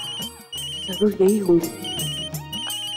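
A telephone ringtone sounds in a domestic drama scene, a repeating electronic melody that runs throughout while someone speaks over it.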